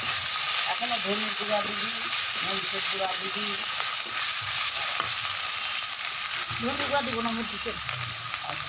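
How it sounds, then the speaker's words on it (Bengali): Garlic and cumin pastes fry in a pan with a steady, loud sizzle that runs throughout, while a voice is heard over it at intervals. "এবার আমরা দেব জিরা বাটা এবার ভালো করে কষিয়ে নেব"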